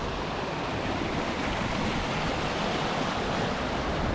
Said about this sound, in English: the whole way along here there's just hundreds of miniature waterfalls.